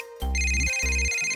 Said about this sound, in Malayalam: അല്ല, ആരാ ഈ ഫോൺ വിളിക്കുന്നേ?